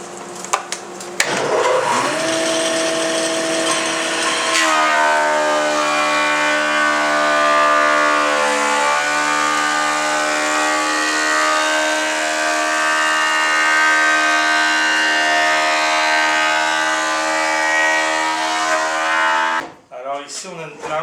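Power planer shaving an oak stair tread, starting with a sharp motor whine, then a loud, sustained high-pitched cutting roar that holds steady for about fifteen seconds before stopping abruptly.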